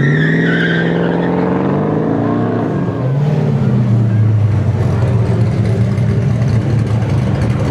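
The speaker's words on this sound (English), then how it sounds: "Richard Mathern rolling up to the line of that 87 step side, packing a 468 cubic inch big block Chevy" A 1987 Chevy step side truck with a 468 cubic inch big block V8 launches on an autocross course, loud engine revving up through gears with tire squeal, close and continuous throughout.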